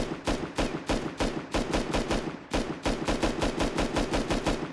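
A 30-round rifle in the survival game Rust fires rapid bursts, with sharp, loud shots coming in quick, evenly spaced runs and brief pauses between them.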